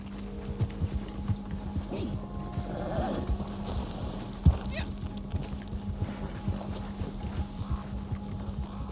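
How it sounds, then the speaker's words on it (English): A horse gallops in the Western video game Red Dead Online, its hooves making a steady, rhythmic clip-clop throughout, with occasional neigh-like noises and people talking over it. "I think my horse might be the fastest."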